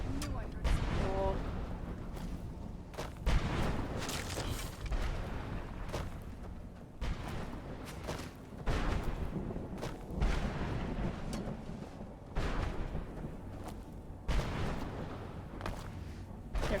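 Repeated gunfire in an open-world video game, with sharp bursts and booms scattered irregularly across the clip at a moderate, slightly distant level over a continuous low rumble of game ambience.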